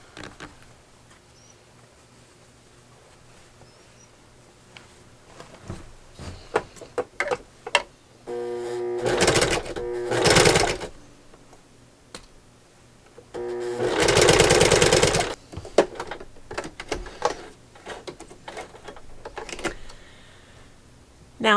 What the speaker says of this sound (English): And we're going to sew those together.